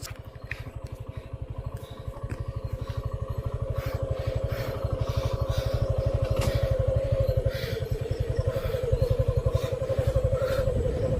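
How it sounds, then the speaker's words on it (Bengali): A motorcycle engine runs steadily on its own, a close, loud, rapid even putter that builds slightly and holds for the whole stretch, with faint clatter on top and no talk. "বাইক চলা শুরু হয়ে গেছে চাবি ছাড়া চলছে"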